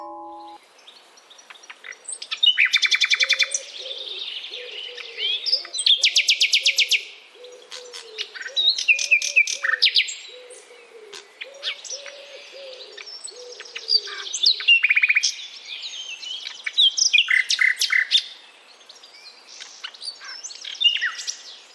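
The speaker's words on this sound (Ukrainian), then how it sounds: "Чий спів ви щойно прослухали? Так, правильно, солов'я." A nightingale sings a long, varied song of rapid trills, whistles and chirps in repeated bursts, clear and fairly close with no talking.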